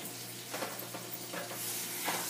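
Food fries in a pan on a home stovetop, a close, steady sizzle with a few soft stirring scrapes and brief clicks over the crackle.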